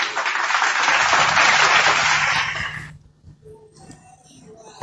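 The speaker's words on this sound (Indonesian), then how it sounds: "Tepuk tangan dulu" A crowd claps loudly for a few seconds before the applause fades out abruptly, leaving quiet room noise and a faint voice.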